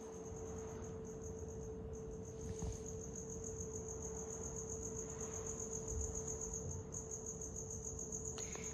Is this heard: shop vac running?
no